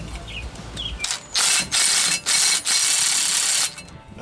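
Several quick bursts of a ratchet wrench tightening U-bolts on a leveling lift kit for a 1988-98 Chevy/GMC C1500 truck, four close, loud ratcheting runs with short pauses between.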